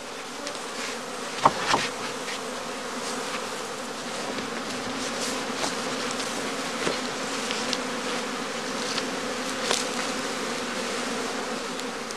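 A honeybee swarm hums steadily inside straw skeps, a dense continuous buzz with occasional closer bees passing and a few faint knocks.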